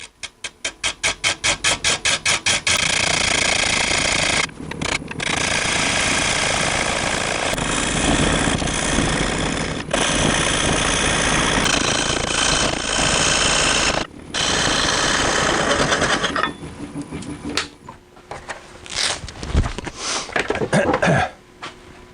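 A wood lathe spins a bowl blank at about 300 RPM in an off-center turning setup, giving a loud, steady mechanical drone with rhythmic thumps at the start and a few cutoffs and bursts as the machine winds down near the end.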